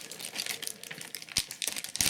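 Close, crackly crinkling of a thin plastic bag from a robot construction kit as it is handled and rustled in quick irregular bursts, fairly quiet.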